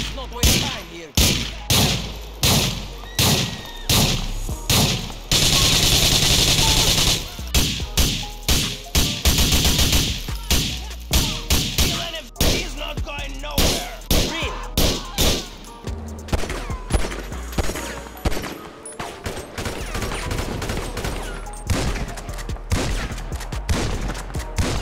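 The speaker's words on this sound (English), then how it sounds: "If you listen to the weapons from GTA 4, you will notice that they sound much louder than those in GTA 5." Video game gunfire from GTA 4 cracks in loud, sharp bursts and rapid volleys, with single shots, fast automatic strings and a sustained spray, dense and close throughout.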